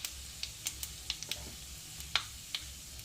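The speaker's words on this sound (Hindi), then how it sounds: "अभी पहले तड़का रेडी कर रहे हैं।" Fenugreek and cumin seeds tempered in hot oil for an idli-sambhar tadka, giving a low, faint sizzle broken by scattered sharp pops and ticks of the spluttering seeds.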